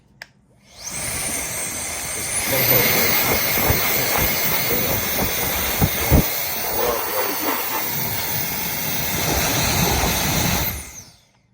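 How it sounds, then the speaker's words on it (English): A small, cheap electric air blower used while soldering and reflowing a flashlight emitter, starting with a click and then running as a steady loud hiss and whoosh for about ten seconds before cutting off, close up and without speech. "Oh, and another thing I've been doing is I bought this little blower. I used to use compressed air"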